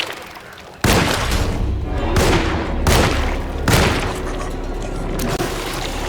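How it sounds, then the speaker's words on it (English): Gunfire in the Alone in the Dark video game at Derceto Manor: a sudden loud blast followed by several more heavy booming shots at irregular intervals, close and reverberant, with no speech over them. "he heard the gunshots"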